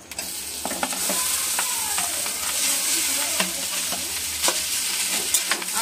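Boiled potato gets stirred into curry leaves and spices frying in a pan, with a steady sizzle under repeated scraping and clinking of a spatula against the metal, close and busy throughout.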